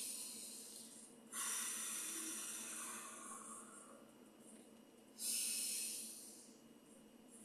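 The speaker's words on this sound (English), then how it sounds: "Inhale and exhale." Two loud, breathy hisses of air during a group breathing exercise, one at about a second and a half and another near the five-second mark, each swelling and then slowly fading, with quiet room hum between them.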